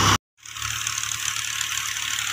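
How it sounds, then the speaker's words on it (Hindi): A tractor engine with a reported fault runs steadily after a brief cut-out, a low, even mechanical drone with a faint rattle, close and alone. "हमारा ट्रैक्टर जो है उसको गड़बड़ हो गई है"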